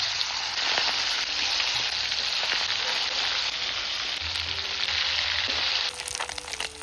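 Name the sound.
pomfret fish frying in mustard oil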